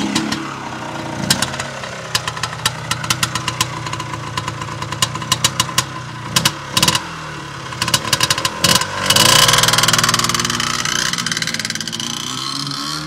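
A Rokon 340 Automatic motorcycle engine idles with a rough, uneven chugging pulse, loud and close, then revs up into a steadier roar toward the end.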